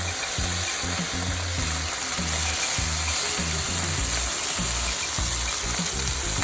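Small chuno fish frying in hot oil in a wok, a continuous loud, dense sizzle and crackle close up, with faint rhythmic low knocks underneath and no talking.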